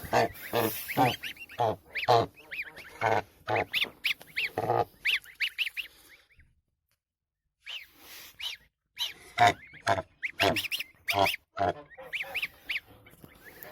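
A family of geese with their goslings honks close by in loud, rapid, repeated calls, with a brief quiet gap midway before the honking resumes.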